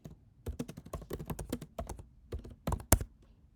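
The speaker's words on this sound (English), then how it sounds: "let's type in help" Quick bursts of keystrokes on a computer keyboard, close and crisp, in uneven clusters with short pauses and a firmer final tap.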